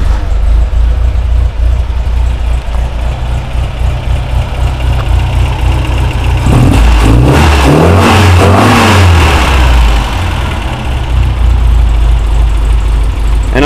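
A 1968 Datsun Roadster's cold engine, choke off, idles with a loud, steady rumble, then revs up sharply a few times before settling back to a rough, throaty idle.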